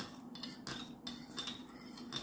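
A metal spoon stirring lemon juice into spiced fuchka water, with several quick clinks and scrapes against the bowl in an irregular rhythm, close and fairly quiet.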